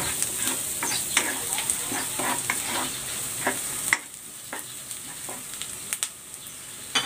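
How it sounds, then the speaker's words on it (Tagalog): Garlic and onion sauté in a pan for a shrimp and egg noodle soup. The sizzle is steady and close, broken by clinks and scrapes of a utensil stirring. No one speaks. "Magigisa na ako ng bawang."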